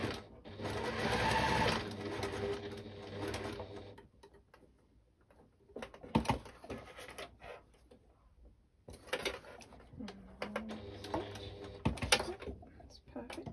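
A sewing machine stitches a seam on a zippered fabric case, running in a quiet burst at first, then in short intermittent spurts separated by small taps and pauses.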